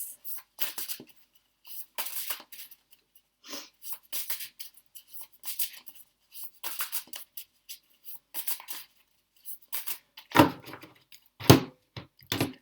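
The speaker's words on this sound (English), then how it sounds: "Just give the cards a quick shuffle." Tarot cards shuffled by hand in soft, irregular bursts of riffling and rubbing, close and quiet, with short pauses between, then two sharper taps or knocks near the end.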